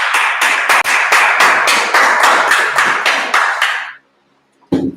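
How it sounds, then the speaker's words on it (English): A class claps hands together in a loud, fast, rhythmic run of a dozen or so sharp claps that stops abruptly, followed by a short silence and a brief voice. "Clap it up."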